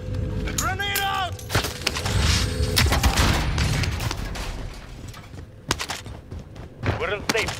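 A grenade blast rumbles amid scattered gunshots in a first-person shooter, sharp cracks interrupting a boomy roll, while players talk over the action.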